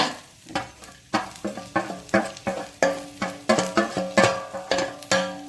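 A Karavali masala gravy of black-eyed peas and drumstick leaves fries over a low flame, with a rhythmic run of spoon scrapes and stirring strokes over a soft sizzle, close and without speech.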